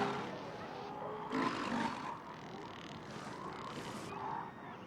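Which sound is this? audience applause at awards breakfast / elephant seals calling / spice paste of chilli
elephant seals calling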